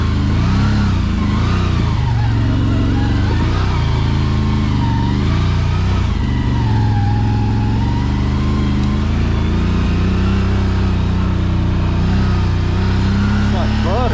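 A 2023 CFORCE Overland ATV engine runs steadily at close range with a continuous mid-low drone and slight rises in pitch as gears are shifted, with talking over it throughout.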